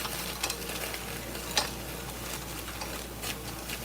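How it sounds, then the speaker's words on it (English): Frozen diced onions sizzle steadily in a pan, a continuous soft hiss with faint ticks and the occasional light clink of stirring, heard close and fairly quiet. "put a nice amount of onions in there. Okay, so we got some onions going."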